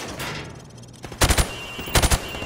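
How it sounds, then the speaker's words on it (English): Two quick bursts of gunfire from a Call of Duty Modern Warfare training range, rounds punched through plywood at targets, each burst three sharp cracks in rapid succession, loud and close, separated by a short pause over a faint ambient hum. "I want you to shoot the targets through the wood."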